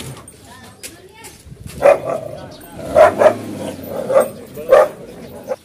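A dog barks close by in a series of sharp barks, five or six in all, bunched in the second half of the clip and mixed with people talking.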